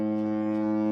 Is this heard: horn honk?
yes